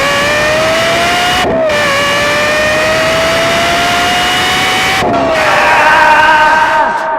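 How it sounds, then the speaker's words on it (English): Lexus LFA with its Yamaha-developed V10 roars loudly and steadily, its pitch climbing through the gears with two brief shift breaks, close and continuous with no talk. "the roar of an angel itself, the Lexus LFA, powered by a Yamaha-developed V10"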